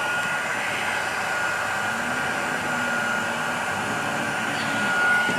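A heat gun blows on heat shrink tubing over speaker wire during a rear door speaker swap in a 2002 Tahoe, giving a steady close airy whir with a faint tonal hum throughout.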